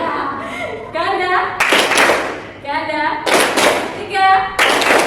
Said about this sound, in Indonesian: Tepuk tunggal, ganda.